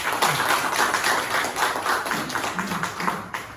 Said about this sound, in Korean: 큰 박수로 박수영 원장님을 환영해 주시기 바랍니다